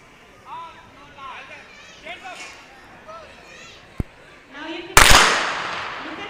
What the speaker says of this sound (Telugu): చూసారా గన్ షాట్ అనేది